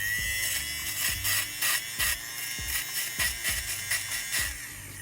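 An electric sweater defuzzer sands dyed foam in a steady, close buzz, broken by a rapid run of short tapping strokes as the tool is pressed and moved around at different angles.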